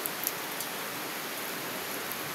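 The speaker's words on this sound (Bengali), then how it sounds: "এই যে বাইরে বৃষ্টি হচ্ছে।" Steady afternoon rain falls outside in Uttara's Sector 17 in Dhaka, where new buildings are going up, making a faint, even hiss with no distinct drops and no voices.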